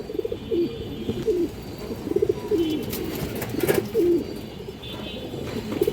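Soft, repeated cooing of pigeons, including a Bezi pigeon, close by, low throaty calls recurring every second or so over a steady background hiss.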